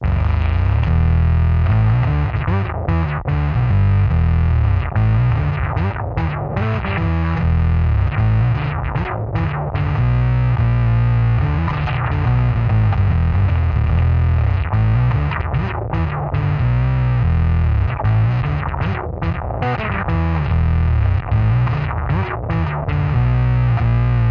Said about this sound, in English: put it in front of a modulation pedal, what creates a very crazy and synthy sound